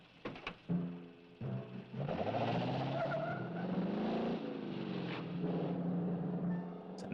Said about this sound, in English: It's a nice sounding car.